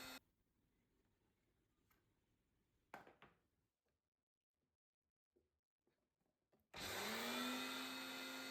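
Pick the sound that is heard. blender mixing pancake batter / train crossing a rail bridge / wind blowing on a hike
blender mixing pancake batter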